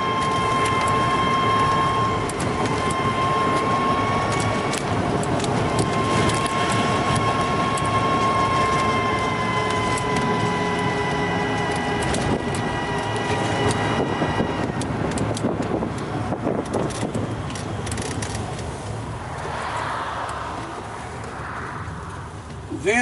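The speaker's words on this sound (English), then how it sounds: "See how it accelerates up this hill. You hear the motor, it picks right up." An electric ZEV T3 pickup trike's motor climbs uphill with a steady, loud whine that rises slightly in pitch, over constant rushing wind and road noise.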